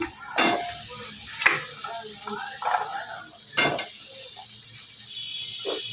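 Vegetable stems tossed into sizzling spice paste while cooking a bhola fish curry give a close frying hiss, punctuated by several sharp clanks of a utensil against the pan.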